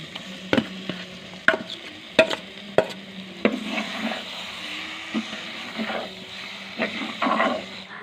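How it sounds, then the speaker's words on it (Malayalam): A spoon stirs pumpkin pieces with turmeric powder in a pan while cooking Kerala erissery, giving repeated scraping knocks and clacks over a low, steady sizzle, close up with no talking. "തയ്യാറാക്കി വച്ചിരിക്കുന്ന മത്തങ്ങ ഇട്ട് ഇളക്കിയെടുക്കാം"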